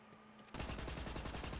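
The Moloko gun in Borderlands 3 opens up after a brief quiet moment, firing a fast, even burst of loud shots that runs to the end without pause.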